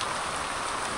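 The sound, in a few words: rain falling outdoors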